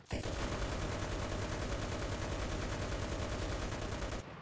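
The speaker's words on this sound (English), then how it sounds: "50 cal go burr" A .50 cal machine gun in a World War II tank game fires in one long, fast burst of evenly spaced shots, loud and close, then cuts off abruptly.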